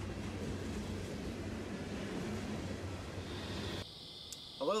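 NYSW freight train SU99 rumbles steadily past Maywood Station, a loud continuous low roar of engine and rolling wagons that cuts off abruptly near the end, leaving a faint high tone and a brief close noise.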